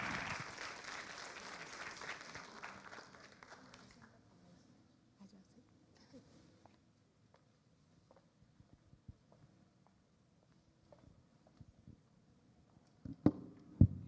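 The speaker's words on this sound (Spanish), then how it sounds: "Un fuerte aplauso para la doctora Alina Torrero." Audience applause for Dr. Alina Torrero at a United Nations Orange Campaign event against violence toward women, a moderate burst of clapping that fades within a few seconds, leaving quiet room noise and small handling sounds.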